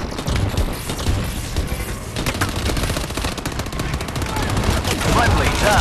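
Sustained gunfire in Call of Duty Advanced Warfare Exo Survival, dense automatic bursts and shots overlapping continuously, loud and close, with game voice callouts mixed in.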